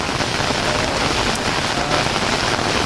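Heavy rain falling during a flood in Bijapur, a dense, steady hiss of drops hitting surfaces close by, unbroken throughout with no voices.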